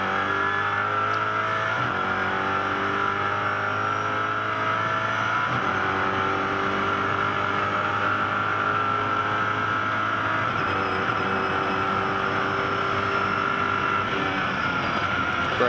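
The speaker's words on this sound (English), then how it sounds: "Let's jump aboard this Mosler MT900 GT3." A Mosler MT900 GT3 race car engine drones loud and steady from on board, rising in pitch through the gears with paddle shifts stepping the revs down several times.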